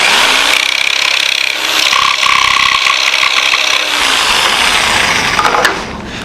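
Crown molding cut freehand with a coping saw for an EasyCoper coping jig, giving a loud, continuous, close rasp of blade on wood with a fast, even stroke rhythm that stops near the end.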